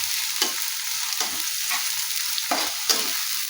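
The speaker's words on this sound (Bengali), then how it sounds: "পেঁয়াজটাকেও বেরেস্তা করে ভেজে নিচ্ছি।" Chopped onions fry in hot oil in a home kitchen, a steady close sizzle broken by periodic scraping stirs of a spatula against the pan, with no talking.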